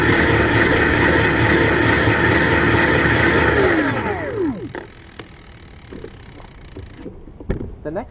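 A Luna Cycle X-1 Ludicrous electric bike runs at full throttle with its rear wheel raised, a loud steady whine that falls off in pitch as the motor winds down, with some clicks afterward.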